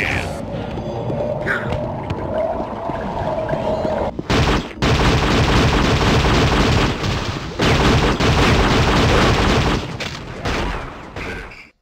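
Sniper rifle fire in the Dreamcast Unreal Tournament deathmatch: heavy, sustained booming blasts with dense noisy bursts, separated by brief pauses, loud and close over an in-game ambient hum.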